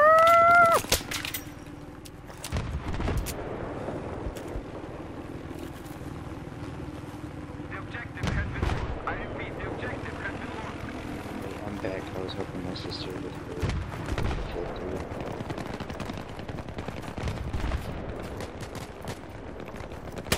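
Pistol and other gunfire in a Battlefield 3 multiplayer match, sharp shots cracking out at irregular intervals over a steady engine-like rumble, with friends talking throughout.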